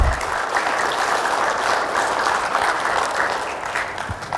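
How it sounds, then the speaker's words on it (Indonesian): An audience claps for teachers and professors at an academic gathering, a dense, steady burst of applause that stays loud and fades slightly near the end. "Tepuk tangan untuk guru-guru kita."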